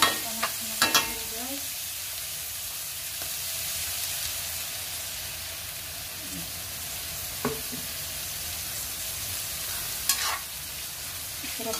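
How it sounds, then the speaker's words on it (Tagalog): Chicken browning in hot frying oil, giving a steady, moderately loud sizzle with occasional stirring clinks, and a brief word spoken once. "Ipa-brown lang natin yung ating chicken."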